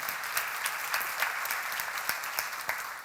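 A room full of seminar attendees at a church academy lecture on Samuel applauds together in a dense, continuous wash of clapping that holds steady for about three seconds.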